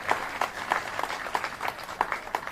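An audience at an Urdu poetry recital breaks into applause, a dense wash of clapping with rhythmic bursts that rises and falls over a couple of seconds.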